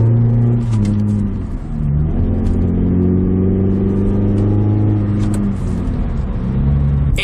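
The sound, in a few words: car engine running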